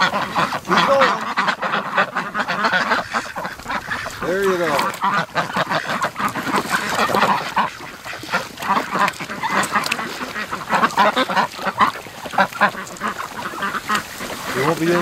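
A flock of ducks and geese quacks and honks repeatedly at close range near a lakeside pen, the calls overlapping in an irregular chorus, with people talking among them.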